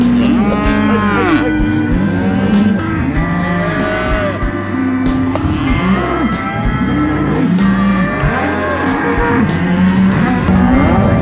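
Many cattle mooing loudly and continuously, overlapping low calls from a close herd, with no talking.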